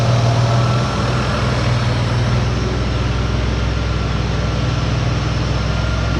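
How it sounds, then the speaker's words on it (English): A 2004 Ford Escape 3.0 V6, freshly repaired with new head gaskets, timing cover and oil pan, idles loudly and smoothly up close, its exhaust giving a steady low rumble throughout with no voices. "Exhaust sounds good."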